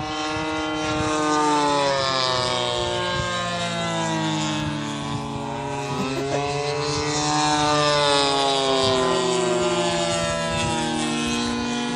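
An RC model warplane, an A6M Zero or F6F Hellcat, drones overhead with a steady buzzing propeller whine that rises and falls in pitch as it passes and circles, continuous and fairly close, with no talking.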